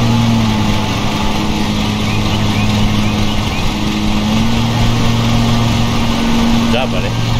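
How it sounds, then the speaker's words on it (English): In the Lawn Mowing Simulator video game, a lawn mower engine drones steadily and loudly throughout with a constant low hum, while people talk over it. "Today's lawn mowing game."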